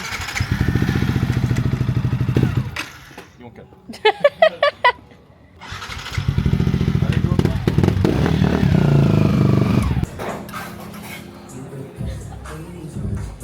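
A small motorbike in Bali starts with a few sharp cranking bursts, then idles and revs as it pulls away, loud and close, with brief speech over the engine.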